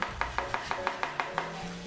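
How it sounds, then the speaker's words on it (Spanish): A knife chops carrot into thin julienne strips on a cutting board, with about eight quick, evenly spaced cuts sounding close and crisp with no talking. "Entonces cortamos la zanahoria, cortamos a la mitad"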